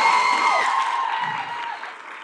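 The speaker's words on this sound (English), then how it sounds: "Let's clap it up for Mr. Jonathan." Sustained applause from a crowd at a fashion show, a dense wash of clapping that tapers off slightly toward the end.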